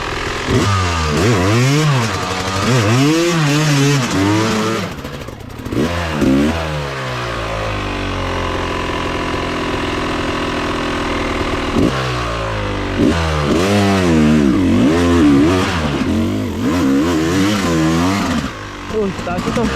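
A motorcycle engine on an enduro trail revs repeatedly, rising and falling in pitch, loud and near, with a steadier idle stretch in the middle.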